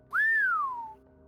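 A single person whistles in imitation of a cowboy: one clear, close, falling whistle with a quick upward onset, then a long downward slide, heard alone.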